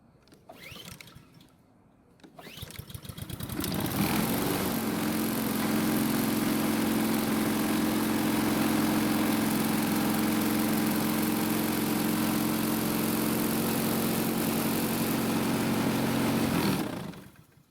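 A Honda lawn mower engine, damaged after hitting a steel I-beam, is pulled a few times, catches and settles into a loud, steady, slightly rough running drone close by, then cuts out at the end.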